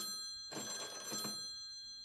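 An old-style telephone bell rings in a steady burst of about three-quarters of a second, moderately loud and close, over a faint electronic hum, with no voices.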